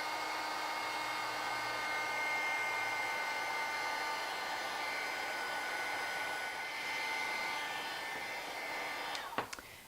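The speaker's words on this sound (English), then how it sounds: "melt the embossing powder onto your piece of paper with an embossing gun. And this is just a heat gun. It's just like a little blow dryer." A small handheld heat gun blows a steady, whooshing electric whir while melting embossing powder on paper, continuous and fairly close, ending with a couple of sharp clicks as it switches off.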